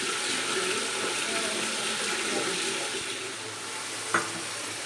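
Water runs and splashes into a pan of cooking curry with a loud, continuous hiss and bubble, ending in one brief clink near the end.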